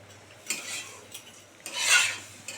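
A spoon stirs vetki fish bone chorchori with potatoes in a pan: two close, scraping strokes of rasping, wet scrubbing, the second longer and louder, with no talking.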